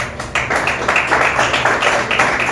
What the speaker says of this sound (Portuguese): E as palmas louvem ao Senhor.